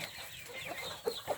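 Silkie chickens on a farm cluck in short, soft calls, a couple of brief nearby clucks over quiet outdoor background.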